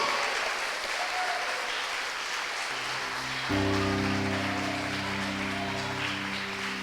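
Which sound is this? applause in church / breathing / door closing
applause in church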